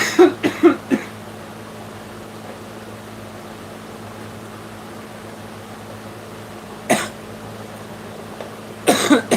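A person who is sick and a smoker coughs in short bursts, a cluster of coughs at the start and two more bouts later, close to the microphone over a faint steady fan-like hum.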